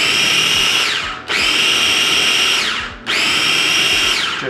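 A food processor pulses butter into pea-sized pieces in three loud, close whirring bursts, each spinning up and then dropping off with short breaks between them.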